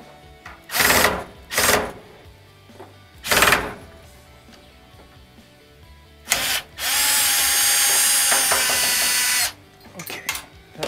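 Power drill backing Phillips head screws out of a gas dryer during a no-heat repair: several short whirring bursts, then one long sustained run near 7–9.5 seconds, close and loud, with brief clicks between.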